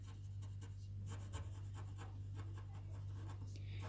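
Pen writing out a polynomial math solution for a Class 10 lesson, a steady faint scratching of strokes over a constant low electrical hum, with no talking.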